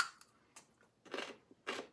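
Biting into and chewing a raw medieval winter radish with purple and white flesh, several sharp close crunches spaced across two quiet seconds.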